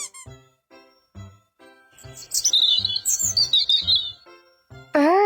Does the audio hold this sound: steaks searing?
no